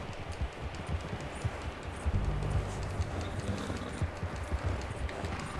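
Rhythmic clip-clop of horse hooves at a steady gallop in Red Dead Redemption 2, close and fairly loud over a low rumbling background.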